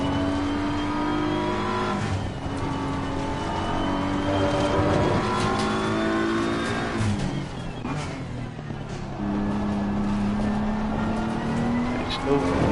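Race car lapping Kyalami in a racing video game, its engine note rising and falling through gear changes and braking zones, loud and continuous with a voice talking over it.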